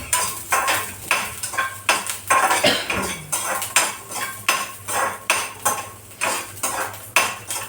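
Garlic roasting for a simple chili chutney is scraped and stirred in a pan with a utensil, repeated rhythmic metallic strokes about once a second, close and loud, with a faint sizzle beneath and no talk.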